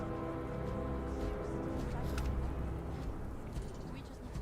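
Rain falls in the space exploration video game Starfield, a steady hiss of drops over a low droning hum and background game audio.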